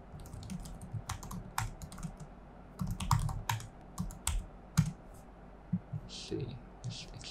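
Rapid, irregular clicks of keys being typed on a computer keyboard, close by, in short bursts with brief pauses and a few heavier taps.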